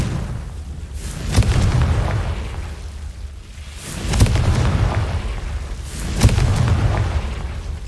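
Three deep, booming blasts from the Confringo fire spell in the Hogwarts Legacy video game, evenly spaced about three seconds apart, each swelling and fading into a rumbling tail.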